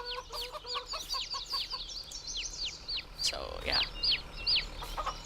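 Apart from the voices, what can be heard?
chicks and chickens clucking in Farming Simulator 22 video game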